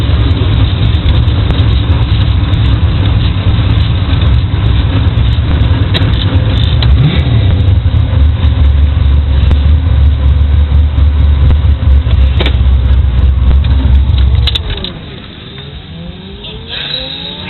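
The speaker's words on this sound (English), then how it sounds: "Run down the drag strip, take 1." A car engine roars loudly and continuously as it accelerates hard down a drag strip, then fades off sharply near the end.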